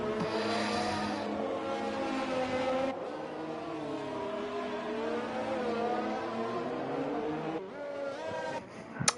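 An AlphaTauri Formula 1 car in a Singapore sim race pushes through a hot lap, its engine whining steadily up and down through gear changes, loud and continuous, with a brief lift near the end.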